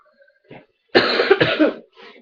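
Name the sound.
cough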